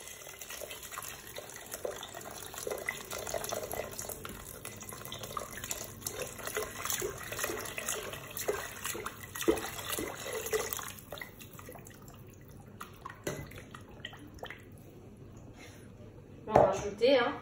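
Water runs from a tap into a Cookeo electric pressure cooker onto cooking onions, a steady trickle that fades partway through, with a person speaking French and a clunk near the end.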